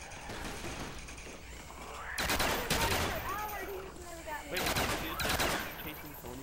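Rapid bursts of gunfire while fending off zombies in a video game, loud clustered volleys in two or three waves, with ringing mechanical clatter between them and voices talking over the action.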